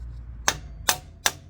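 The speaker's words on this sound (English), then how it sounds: "take our rubber or plastic mallet," A rubber or plastic mallet tapping a motorcycle axle on a 2022 GSA 850, three sharp evenly spaced knocks about 0.4 seconds apart, close and clear over a low background hum.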